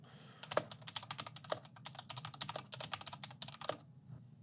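Rapid, crisp clacking from typing on an Ajazz K620T 60% mechanical keyboard, a dense run of close keystrokes with brief pauses and no voice over it.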